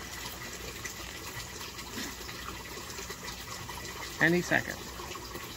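An aquaponics U-siphon begins draining a grow bed, with faint trickling water under a quiet voice before a short burst of gurgling flow near the end.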